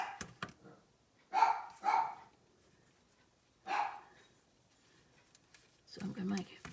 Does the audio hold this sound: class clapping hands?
no